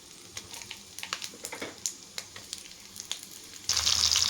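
Green chillies and onions frying in a pan, a steady sizzle broken by sharp pops and crackles, turning into a sudden louder hiss near the end.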